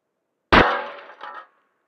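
A single sharp shotgun blast of buckshot striking aluminum plates, with a bright metallic clang that rings and decays over about a second, followed by a fainter second ring.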